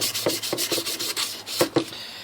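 Sandpaper buffs the frets of an SG copy bass guitar in quick back-and-forth strokes, a close, rhythmic dry rasping with no talk.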